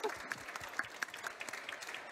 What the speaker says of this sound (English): Round of applause for Sabrina.